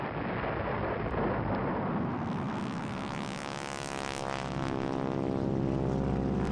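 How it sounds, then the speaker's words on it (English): An airplane passes overhead with a loud, steady broadband roar that swells and shifts in pitch as it flies by, continuous across the whole stretch with no voices. "airplane"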